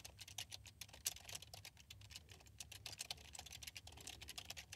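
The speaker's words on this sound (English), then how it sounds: "So we'll type out that instruction." Steady, quick typing on a computer keyboard, a soft run of close key clicks in an irregular patter that continues throughout, with no one speaking.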